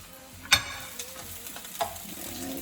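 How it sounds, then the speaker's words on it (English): Coconut curry shrimp with Scotch bonnet pepper sautés in a pan, a soft steady sizzle broken by a couple of sharp clanks of a utensil stirring against the pan. "All right, let's just continue to saute this."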